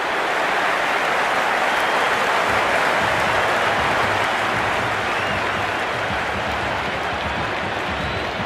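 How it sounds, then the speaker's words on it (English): A dense, roaring crowd at an IPL cricket match between Bengaluru and Gujarat in a packed stadium, cheering and applauding without a break at steady high volume. "It's evident and ever so audible that the crowd is at near bursting point at today's play."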